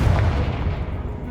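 The Confringo fire spell blasting in the video game Hogwarts Legacy: a loud, deep, rumbling explosion that booms at once and trails off over about a second.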